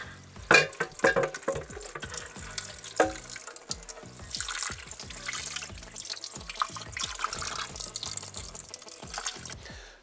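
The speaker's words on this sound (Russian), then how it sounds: "Сразу можно уже смывать водой." Running water splashes and gurgles while rinsing a camshaft cover from a Chevrolet Aveo 1.6, with a couple of sharp clunks early on, fairly close and steady.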